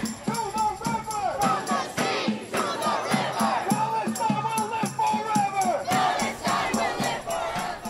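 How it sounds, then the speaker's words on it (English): A large crowd of pro-Palestine demonstrators outside the White House chants loudly and rhythmically in unison, repeated call-and-response phrases rising and falling continuously, close and dense with voices overlapping. "Happening today outside of the White House, a crowd of pro-Palestine demonstrators demanding a ceasefire in the Gaza Strip."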